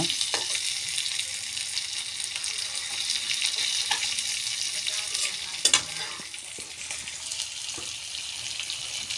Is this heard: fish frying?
yes